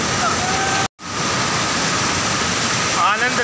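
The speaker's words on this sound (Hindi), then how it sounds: "और इस झरने के पास पहुंच चुके हैं" Waterfall near the Haldeshwar Mahadev temple in Siwana, Barmer, Rajasthan: a loud, steady roar of falling water filling the clip, with a brief cut near the start.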